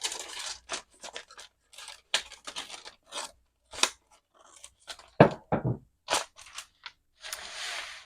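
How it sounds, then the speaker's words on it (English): Scissors cut along the sides of a junk mail paper envelope in a series of close, crisp snips. The snips come in short irregular bursts separated by brief pauses, with no talking. "Maybe I'll take a skinnier envelope and just do the same thing and cut the sides."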